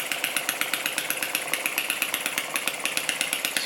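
A Lister D model stationary diesel engine runs at low RPM, a steady thumping chug with regular rapid beats, close and fairly loud, with no talk.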